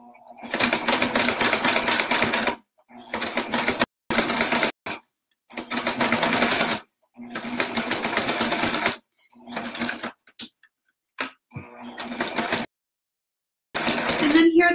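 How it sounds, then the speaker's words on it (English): A sewing machine stitches fabric for oven mitts in quick mechanical bursts, stopping and starting in several runs of a second or two with short silent gaps between them. "I'm going to go down and I'm just going to go across a couple stitches and up instead of doing a direct diagonal"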